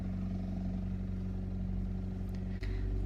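A little old car cruises with a constant engine drone and road rumble from inside, a brief knock near the end, and no voices.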